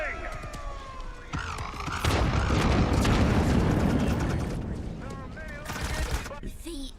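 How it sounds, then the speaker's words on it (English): An artillery barrage in the game Fallout 3 erupts as a long, loud roar of blasts lasting about three seconds, with another burst near the end, amid other game sounds and talking. "Barrage incoming!"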